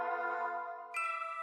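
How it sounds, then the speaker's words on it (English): A chime-like synth pad preset called Nostalgic VHS plays sustained, bell-toned harmonic layers, shifting to a brighter chord about two-thirds through, heard alone without any voices. "It's called Nostalgic VHS. And this was another part that really helps. It's like chimes."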